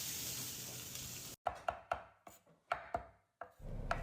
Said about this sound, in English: I'm cutting up some parsley